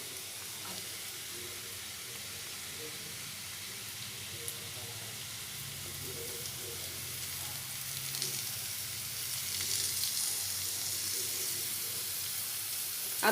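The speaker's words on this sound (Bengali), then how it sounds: "আলুগুলো অর্ধেক ভাজা হয়ে গেছে, এবারে ওতে দিয়ে দেব এভাবে কেটে নেওয়া পেঁয়াজ কুচি আর চেরা কাঁচা লঙ্কা" Half-fried potatoes sizzle in hot oil with chopped onion and slit green chillies, giving a steady, close frying hiss throughout that swells slightly louder near the end, with faint talk underneath.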